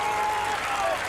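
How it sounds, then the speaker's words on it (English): A stadium crowd applauds and cheers a defensive block at an ultimate frisbee match, the 1991 WFDF World Championships in Boston. The dense, steady applause fills the whole moment, with a sustained whistle-like tone running through it. "Oh, the crowd loves that."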